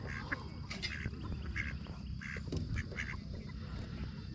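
Ducks quacking repeatedly at a pond or lakeside while being fed fishing bait, a steady chorus of nasal calls over constant outdoor background noise.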